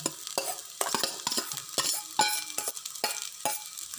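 Vegetables poured into a pan and stirred while frying, with rhythmic spatula scrapes and clatter over a soft sizzle, close and moderately loud.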